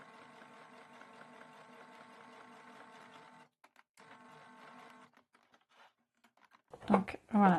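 A sewing machine stitches a patch pocket seam in a steady, fast mechanical whir for a few seconds, stops, runs again briefly, then gives way to a few short handling noises and a burst of louder rustling.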